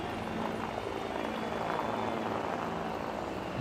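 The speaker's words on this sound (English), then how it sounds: "You hear the sound of those military helicopters buzzing the ground here." Military helicopters fly low over a cricket stadium during a Pakistan Super League match in Karachi, their rotor noise a steady, dense roar blended with crowd sound throughout.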